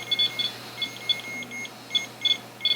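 A proximity alarm gives a series of short, bright electronic beeps in uneven clusters over a steady low hum, fairly close and clear, with no one speaking.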